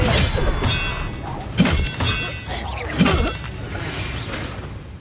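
A Confringo blasting spell exploding in the Hogwarts Legacy video game, with several sharp cracking blasts and shattering bursts, two heavier thumps standing out, inside a busy combat mix.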